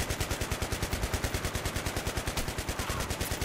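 A heavy machine gun in the video game Battlefield 3 fires a steady, fast, unbroken stream of loud, evenly spaced shots close by, with no voices.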